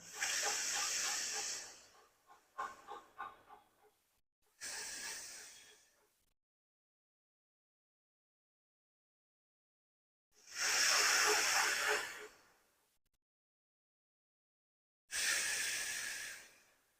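Alternate-nostril pranayama breathing, with air drawn in through the left nostril: several breathy hissing inhales and exhales separated by long silences, close and clear.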